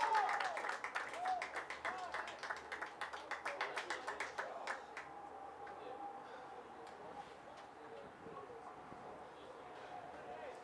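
A baseball crowd at an American Legion tournament game in Shrewsbury, Massachusetts gives a round of applause, scattered distinct claps fading after a few seconds into quiet ballpark ambience, heard from a distance with a voice talking over it.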